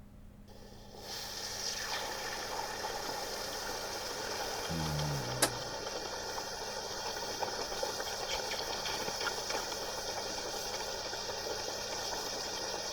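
A hot brass ingot from a propane furnace gives a sudden sizzle that holds as a continuous, fairly loud hiss over a low mechanical hum, with one brief sharp click midway.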